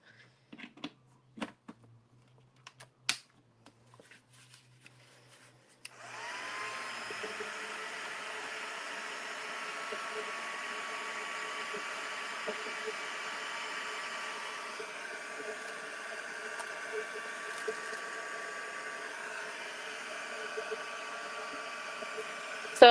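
A hair dryer blows steadily for a long stretch while drying modeling paste on a mixed media art piece, its even whooshing hum starting after a few faint taps and handling sounds.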